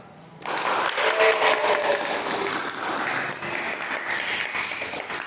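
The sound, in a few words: applause from the class audience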